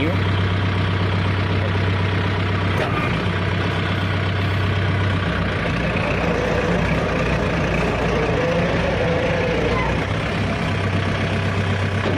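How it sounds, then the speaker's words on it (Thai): Farm tractor engine running in a rice field while it moves, a continuous heavy low drone with a steady hum throughout and someone talking over it at times. "ผมจะลองเคลื่อนรถไถดู"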